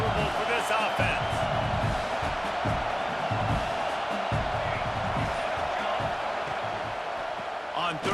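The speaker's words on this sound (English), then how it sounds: "This crowd trying to make life miserable for this offense." A stadium crowd roars steadily in an EA Sports College Football game, a loud sustained wash of cheering behind a play-by-play commentator talking.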